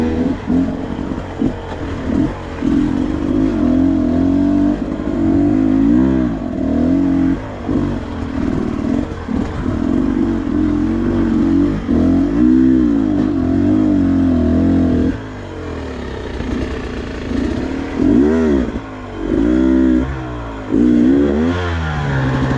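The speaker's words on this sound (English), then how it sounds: "this bike grunts through stuff so good." A 2023 Beta 300RR Race Edition two-stroke dirt bike grunts along a trail, its engine loud and close, rising and falling in repeated revs and bogs through tight turns, with no talking.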